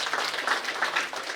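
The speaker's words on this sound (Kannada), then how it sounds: "ಜೋರಾದ ಚಪ್ಪಾಳೆ." Loud, steady applause from an audience at an evening cultural program, dense clapping filling the short stretch without pause.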